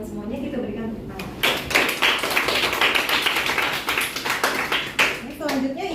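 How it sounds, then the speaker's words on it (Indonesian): Classroom applause as students clap for their classmates' answers, a dense burst of many hands lasting several seconds with some children's voices mixed in. "Jawaban dari teman-teman semuanya kita berikan tepuk tangan."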